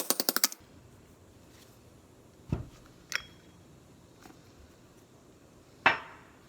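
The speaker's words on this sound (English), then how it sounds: "get a socket that'll fit your seal size, and then you can just drive it out" A transmission seal on an Allis Chalmers 190XT is driven out with a socket in a quiet workshop, producing a quick burst of light taps followed by a few separate sharp metallic hammer knocks.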